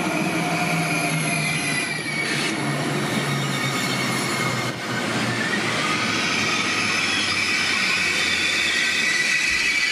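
An Intercity 2 train at Duisburg main station rolls through with loud, steady rumbling and high squealing wheels, a sustained clatter close by that fills the whole stretch.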